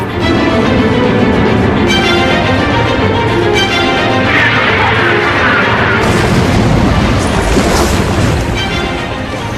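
Dense, loud rumbling booms of missile explosions in the Mega Man X game, with a continuous roar and crashing bursts filling the whole stretch and no gaps.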